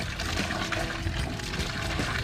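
Strong water gushes from a faucet in a steady, loud, broadband rush that runs without a break from start to finish, with no talking over it.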